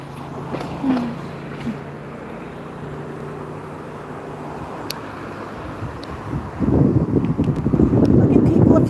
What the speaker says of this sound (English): Oh, it's windy out here, isn't it?